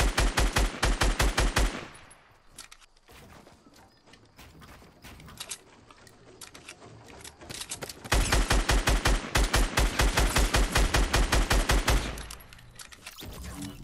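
Rapid automatic gunfire from the video game Fortnite, long loud bursts of evenly spaced shots with a quieter stretch of scattered shots and mechanical clicks between them, no voices.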